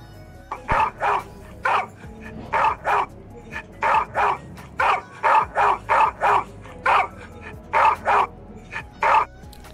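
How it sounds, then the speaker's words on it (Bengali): A dog barks repeatedly in a steady, fast rhythm, loud and close, about fifteen sharp barks in a row with no pauses for talk. "এমন সময় আবার সেই কুকুরের ডাক, এবার কাছে, অন্ধকার থেকে ছুটে আসছে।"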